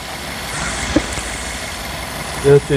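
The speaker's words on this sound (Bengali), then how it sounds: "ইঞ্জিনের আওয়াজটা দেখছেন খুবই স্মুথ, এতটা স্মুথ, কোনো আওয়াজ নাই, কোনো ভাইব্রেশন নাই ইঞ্জিন।" A 2010 Toyota Passo Sette car engine idling close by with a steady, smooth hum and no clear knocks. A brief voice-like sound rises near the end.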